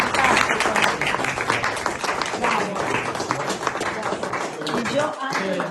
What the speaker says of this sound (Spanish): te voy a dar un aplauso para ti